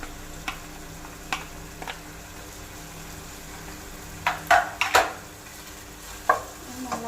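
Garlic and ginger sautéing in a pan for chicken pulao, a soft steady sizzle beneath occasional sharp scrapes and clinks of a spoon stirring against the pan, with no voices.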